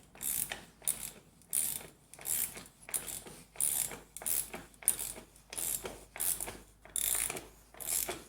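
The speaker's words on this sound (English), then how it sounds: "I've got my socket wrench here" A socket wrench ratchets half-inch by three-inch lag screws into a board, giving a dozen or so evenly spaced bursts of rapid clicking, close and crisp with no talk.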